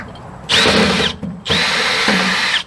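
Power drill backing machine screws out of a tankless water heater's copper box, two loud close whirring bursts with a brief pause between them as the bit spins and the pitch shifts under load.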